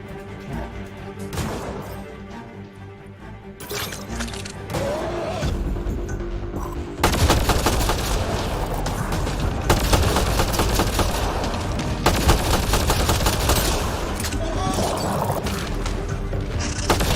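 Repeated gunfire and crashing impacts from a Mass Effect: Andromeda firefight, with loud shots and bangs that grow denser and heavier partway through and continue to the end.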